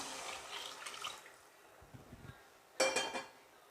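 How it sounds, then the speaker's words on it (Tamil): Water poured into rice in a pot while making coriander rice, a soft splashing wash with faint clinks that ends in a brief louder splash near the end. "இதில் தண்ணி சேர்த்துக்கலாங்க."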